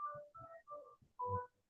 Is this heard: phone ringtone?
yes